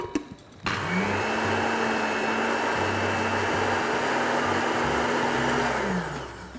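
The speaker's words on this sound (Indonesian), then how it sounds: "Oke, tinggal kita blender." An electric blender whirs loudly at a steady high pitch while blending a honey smoothie, running for about five seconds after a short start before spinning down, with no speech.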